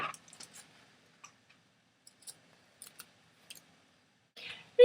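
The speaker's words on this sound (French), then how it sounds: "Maintenant, je vais couper le bout des pointes." Scissors snipping the tips of fabric for a cloth crown, a handful of small, sharp, sparse clicks spaced out across an otherwise quiet room.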